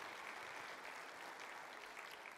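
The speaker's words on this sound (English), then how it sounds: "Yes, a round of applause for play equity." Audience at a youth sports summit applauding during a keynote, steady, even clapping from a hall crowd, fairly faint and continuous throughout.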